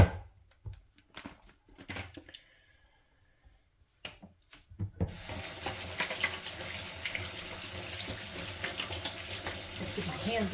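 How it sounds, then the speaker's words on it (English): Running tap water pours steadily over hands at a kitchen sink while garlic and other soup ingredients are being prepared; a few quiet clicks and handling sounds come first, then the water starts and flows loudly and continuously. "Just give my hands a bit of a rinse."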